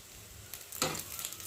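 An egg fries in a pan, turned so both sides cook, giving a soft steady sizzle that swells into a louder crackling burst partway through and then keeps hissing.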